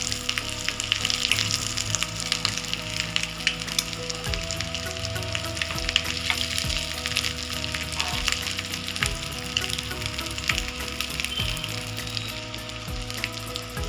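Egg chop frying over a medium flame in a pan, a steady loud sizzle throughout with the soft scrape and knock of a spoon stirring it now and then.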